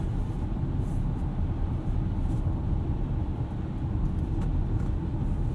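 A 2018 BMW X3 xDrive30i with four-wheel drive rolls over slippery pavement, filling the cabin with a steady, close road rumble and engine drone that holds evenly throughout, with no talking.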